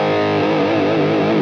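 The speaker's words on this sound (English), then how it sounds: "what you're hearing right now is a very, very wet sound." Electric guitar run through a Line 6 Helix patch with heavy, very wet reverb and distortion, sustained chords ringing and washing together continuously, close and alone without voices.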